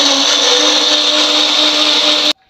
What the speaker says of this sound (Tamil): கொஞ்சமாக தண்ணி விட்டு மிக்ஸி ஜாரில் அரைச்சி எடுத்துக்கலாம்